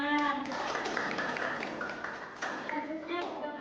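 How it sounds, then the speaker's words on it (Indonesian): Students clap together in a classroom during an Islamic cultural history lesson in Indonesia, a short burst of scattered applause mixed with overlapping voices talking. "Tepuk tangan."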